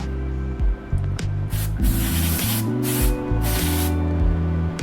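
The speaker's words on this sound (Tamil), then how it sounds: "மோட்டால் வந்து நல்லா ஜெட்டு மாதிரி ஸ்ப்ரே ஆகுது." Motul chain spray jets onto a motorbike chain in several loud, close hissing bursts of varying length, with a steady background hum between them.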